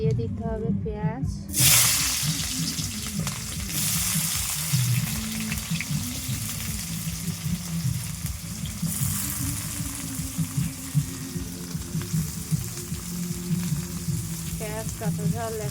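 Onions and green chillies sizzle in hot oil in a pan, a continuous close crackle under occasional stirring, with someone talking over it at intervals.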